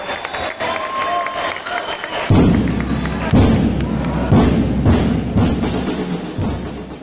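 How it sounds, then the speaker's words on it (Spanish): A crowd applauds a marching band at a national band gathering. Dense clapping and some cheering run under repeated heavy booming drum thuds, with voices mixed in. "El aplauso para ellos, que se escuche."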